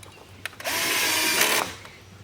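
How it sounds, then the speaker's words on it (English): A power drill driving a screw into deck lumber during a deck rebuild, a brief click or two and then one steady, loud whirring run of about a second before it stops. "I'm going to just drill this in place so it doesn't move"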